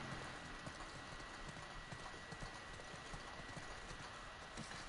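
Horses' hooves clip-clopping at a steady walking pace in The Last of Us Part 2, faint and continuous under a constant ambient wash.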